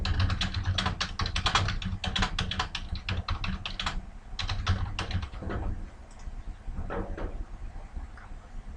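Rapid keystrokes on a computer keyboard, close and moderately quiet, coming in quick bursts of clicks with brief pauses between words and a short break near the middle.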